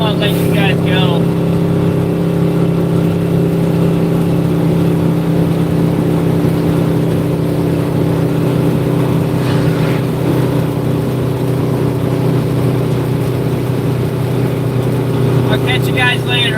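Dump truck engine running while driving at a job site, a steady mid-pitched drone with even, continuous tone and no clear shifts in revs.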